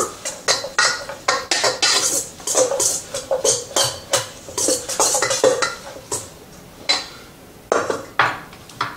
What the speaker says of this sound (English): And add and combine that all in there and stir.